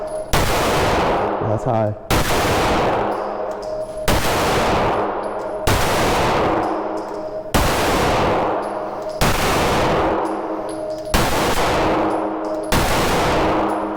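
Pistol fire from a Springfield Echelon and a Smith & Wesson M&P 2.0 at an outdoor range, eight loud sharp shots spaced about every two seconds with ringing decays, and a brief spoken remark early on.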